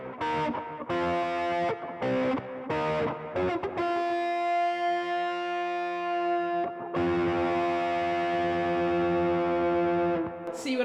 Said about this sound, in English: let's try the stacking of the overdrive and the crunch distortion.